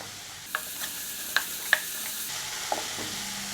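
Onions with salt frying in coconut oil in a pan, a steady faint sizzle with a few sharp clicks and pops from stirring, close and quiet.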